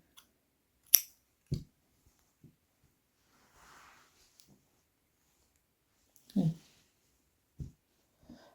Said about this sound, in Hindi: एक चेन बनाएंगे और धागा काट देंगे।